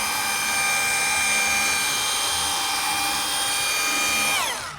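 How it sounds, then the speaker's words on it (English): A rotary polisher with its pad fitted runs at a loud, steady high-pitched whine close by, holding level for several seconds before winding down at the end. "Then turn around and turn your pad on."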